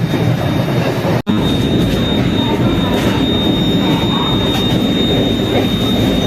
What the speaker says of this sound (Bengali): আমরা ঢুকছি এখন ভুবনেশ্বর ট্রেন রাইট টাইমেই চলছে